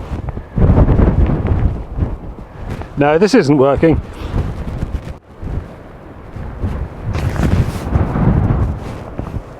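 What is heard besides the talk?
wind on a coastal path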